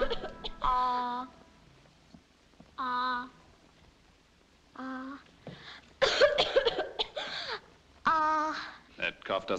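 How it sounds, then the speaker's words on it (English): Harsh repeated coughing from a woman in the 1943 film Jane Eyre, several close bursts spaced across a few seconds, with voiced breaths between them. "That cough doesn't seem any better,"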